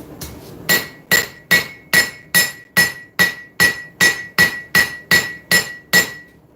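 A hammer strikes metal in a steady, even rhythm, about a dozen ringing blows spaced roughly half a second apart, close and clear with no voices.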